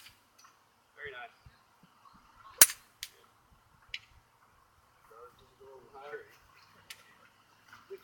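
A golf club strikes a ball on an approach shot outdoors, one sharp loud crack with a few fainter ticks around it, and people talk quietly nearby.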